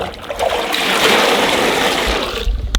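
Water from a garden hose or tap pours and trickles into a pan, a continuous rushing splash that holds steady before cutting off near the end, heard alone without talk.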